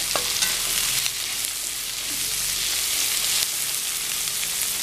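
Capsicum and red chilli fry in a pan for vegetable noodles, giving a steady, dense sizzle with occasional stirring scrapes throughout, close and continuous with no talking.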